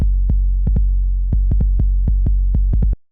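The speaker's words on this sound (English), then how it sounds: "It's just helping to fatten up the 808 a little bit" An 808 drum sample run through a saturator, with a sustained, deep, fattened bass tone and a string of sharp, clicking hits in an irregular footwork rhythm before it cuts off abruptly.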